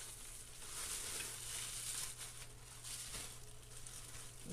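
A steady, close sizzle hisses without a break as a 2.5 pound roast sears in a hot cast iron pan, its crackle and spatter fairly quiet and heard without any talk.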